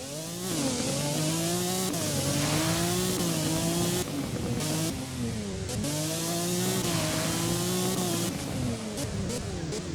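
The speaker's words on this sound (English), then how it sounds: "let's see what it sounds like when you're driving on a road" McLaren F1 engine in the Driving Empire racing game, a loud high-pitched whine rising through the revs on the road, dropping sharply at each gear change and climbing again, continuous and close.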